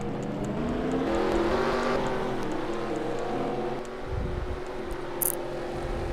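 A field of race cars rolls off at Dover in a racing game, engines droning steadily in a layered, harmonic hum, with a brief rise and rumble of throttle near the end.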